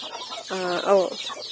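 Backyard chickens that scratch out the soil of potted avocado seedlings give a short, loud, harmonic burst of clucking, rising in a brief run of notes and then fading, close by and clear.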